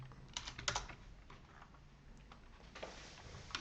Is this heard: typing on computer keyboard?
yes